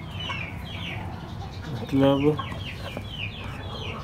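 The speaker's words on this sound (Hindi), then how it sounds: "हमारी एक मुर्गी ने अंडा दिया है" Hen clucking on a rural poultry farm after laying an egg, a short loud burst of clucks close by, with scattered bird chirps and a brief spoken word around it.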